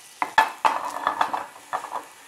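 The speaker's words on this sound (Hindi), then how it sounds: "थोड़ा सा बटर लेंगे, काजू डाल देंगे, बस इन्हें थोड़ा सा क्रंची होने तक भून लेंगे।" Cashews roasting in butter in a pan for vegetable biryani, with a spoon scraping and stirring in several distinct strokes over a soft sizzle, close by.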